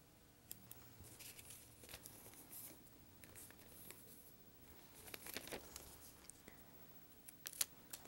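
Scissors snipping paper pieces down to size for a paint envelope craft, faint close crisp cuts and light paper rustling scattered across a quiet background, with sharper snips near the end.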